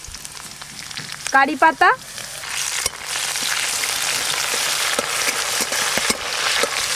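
Chopped garlic and green chilli sizzle in a little hot oil, a steady crackling hiss that swells and stays loud. A voice speaks briefly near the start.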